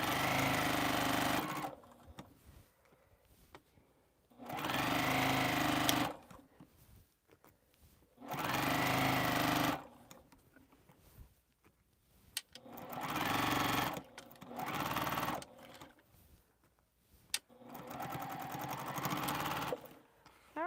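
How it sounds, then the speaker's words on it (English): A sewing machine running seams on a quilt, with repeated multi-second bursts of steady motor whir and stitching separated by short quiet pauses, close and prominent. "And sew another seam."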